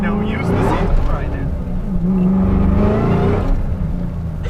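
A 600 HP Ford Mustang accelerates with quick short shifts, engine tone rising and dropping in brief pulls, loud and close, with a voice talking over it.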